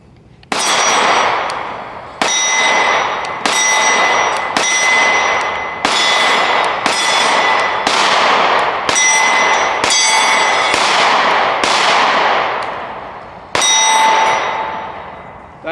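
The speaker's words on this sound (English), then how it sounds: "let's shoot some more" 9mm Canik Mete MC9 micro-compact pistol shots striking steel targets at 15 yards, a series of about ten sharp metallic clangs spaced unevenly, each ringing out and fading before the next.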